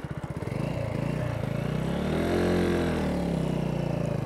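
A Mutt Mongrel 250 motorcycle engine turning around, a steady mid-pitched drone that rises as the rider opens the throttle and then settles back, close and alone with no talking.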